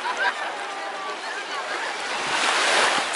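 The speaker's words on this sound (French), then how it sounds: "Donc là c'est la plage" Sea waves wash steadily onto a beach in Sardinia, a broad close surf hiss with some wind buffeting the microphone.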